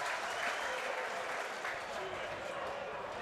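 Rugby league home crowd cheers a mid-range twisting kick, a broad, continuous roar of voices and clapping from a large stadium audience, steady and fairly distant.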